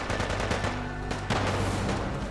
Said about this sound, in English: Eat plasma grenades.